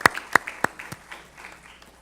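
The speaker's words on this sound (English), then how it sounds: "Let's give them another round of applause for Fairmont Heights High School." An audience at a Board of Education meeting gives a brief round of applause, a few sharp, distinct claps that quickly thin out and fade into scattered, softer claps.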